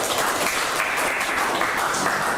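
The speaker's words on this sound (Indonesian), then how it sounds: "Tepuk tangan buat Pipian dulu" A high-school informatics class claps for a student in steady, moderately loud applause that fills the room and continues without a break.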